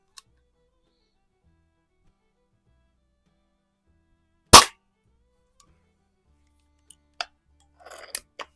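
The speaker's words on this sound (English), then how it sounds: "I'm shooting to the left." Shots from an antique Eisenwerke Gem No.13 air gun in a garage: one sharp crack after several seconds of quiet, then a few smaller clicks and ticks as the gun is handled.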